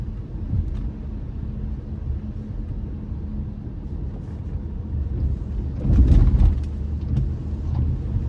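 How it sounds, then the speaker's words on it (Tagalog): A large truck turns on the road ahead on a dark night in a Canadian town during wildfire conditions, giving a steady low engine rumble that swells louder around the middle of the clip before easing back. "May malaking truck na lumiliko dyan sa harapan ko ngayon."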